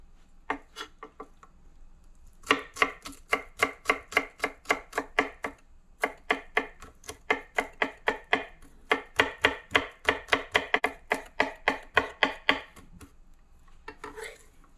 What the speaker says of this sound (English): Get like 4 cloves of garlic in there. Just smash that